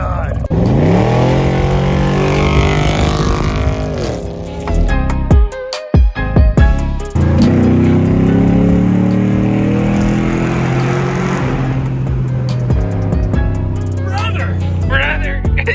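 Chevrolet Trailblazer SS with a true dual straight-pipe exhaust revs hard and loud up close, rising and falling through several sweeps with a brief sharp drop midway, with voices occasionally heard.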